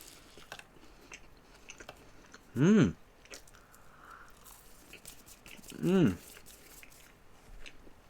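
Pastries such as a croissant and a baguette are chewed up close in a mukbang, with soft crunching and mouth sounds running through, broken twice by short voiced hums.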